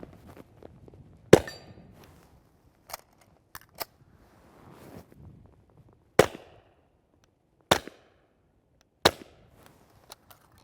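Suppressed gunshots from a 22 caliber firearm fitted with a JK Armament Form 1 22 caliber suppressor: about seven sharp, loud cracks at irregular intervals, with faint handling noise in between.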